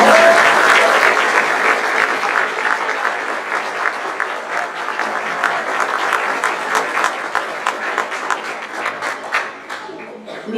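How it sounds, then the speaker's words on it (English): Audience at a beginning band concert gives a round of applause, a loud, sustained wash of many clapping hands that carries on for about ten seconds, with some voices mixed in and a gradual tapering near the end. "Let's give them a round of applause."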